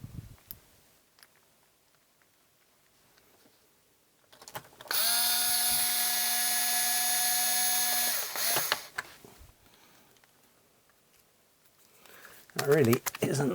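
A power driver spins a machine screw into the keyboard bracket of a Commodore 64C, one loud steady whirring burst lasting about three seconds, with quiet handling clicks before and after.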